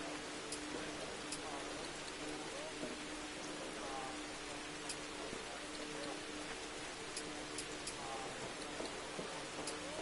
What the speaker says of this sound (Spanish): Lluvia torrencial.